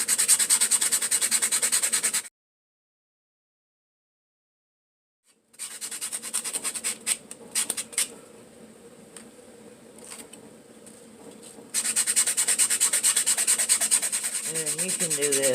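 Steady abrasive rubbing as a dip-powder nail is filed and buffed, loud and close in long continuous passes, broken by a silent gap and a quieter stretch of scattered light scratches before the filing resumes.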